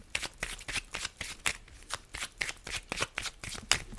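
Tarot cards shuffled for a seven-card draw, a brisk run of close, crisp riffling bursts repeating in quick rhythm, with no talk over it.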